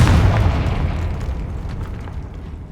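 A Confringo fire spell explodes in Hogwarts Legacy, one loud deep boom at the start that rumbles and slowly fades out over the next few seconds, with no voices.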